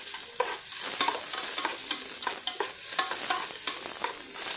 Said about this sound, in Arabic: هسه خليت الدهين، انزل البصل خليه ينحمس حيل